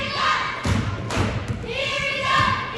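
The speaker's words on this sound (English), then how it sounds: "And all of a sudden the cheerleaders are as loud as they've been all game. They're banging walls." Cheerleaders banging on gym walls during a varsity girls' basketball game, several loud, sharp thuds in quick bursts over crowd noise and a commentator's voice.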